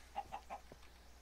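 Three quick chicken clucks from a Minecraft chicken, followed by a softer fourth note, fairly near and alone over a quiet game background.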